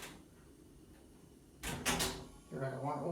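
A creaky hydraulic entrance elevator door by Garaventa, in a library building, gives short scraping creaks and clunks partway through, fairly close and moderately loud, after a quiet stretch.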